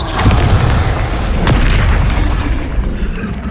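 Confringo fire spell blasting an enemy in the Hogwarts Legacy video game, a loud sustained boom with rumbling bursts and sharp crackling hits throughout.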